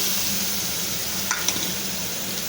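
Melon (teti) pieces dropped into a hot pan with asafoetida and ginger-chili-garlic paste for a curry, giving a steady close sizzle with a couple of soft stirring bumps near the end.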